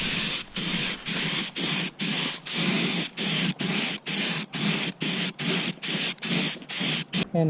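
An HVLP paint sprayer hisses in short bursts while coating RTA kitchen cabinets, about fifteen evenly spaced on-off passes with brief gaps between, close and loud with no talking.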